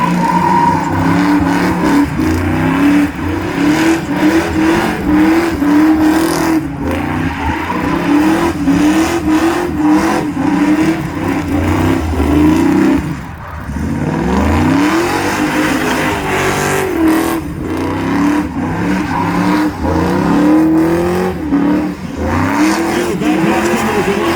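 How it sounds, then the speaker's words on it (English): Car at a rolling burnout contest during the Carlisle Import & Performance Nationals, working through donuts near barrels, engine screaming loud and sustained with wavering revs and tire squeal, a brief dip midway before it roars back. "Now he's going to try to do some donuts there."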